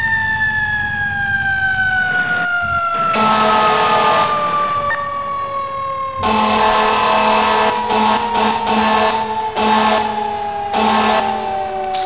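A fire truck siren from the EmergeNYC firefighting game wails in long, slowly falling sweeps, loud and close, with bursts of deep air horn blasting over it partway through.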